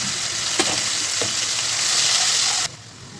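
Ginger garlic paste hitting hot mustard oil for a mutton curry, a loud continuous sizzle with a couple of stirring knocks, cutting off abruptly near the end to a quieter hiss.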